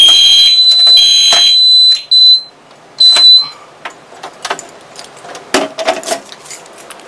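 A home fire alarm system sounds during a test with a loud, steady electronic tone in short blasts that stop and restart, followed by clicks and jangling metallic handling noises.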